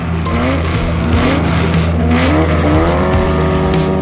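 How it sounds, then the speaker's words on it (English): A 1956 Porsche 550A Spyder race car with a 1.5-liter, 135-horsepower engine revs loudly and steadily, its pitch rising and falling through repeated shifts, with faint tire noise and no talking. "It's this, the 1956 Porsche 550A Spyder."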